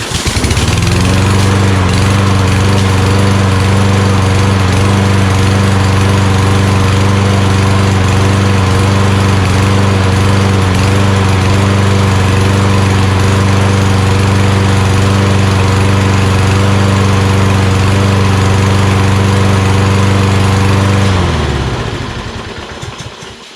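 A Toro Recycler lawnmower with a Kohler XT675 engine and an old carburetor runs loud and close at a steady drone for about twenty seconds, then cuts off and winds down at the end.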